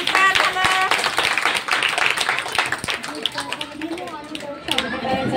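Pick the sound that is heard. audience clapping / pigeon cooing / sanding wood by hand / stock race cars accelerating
audience clapping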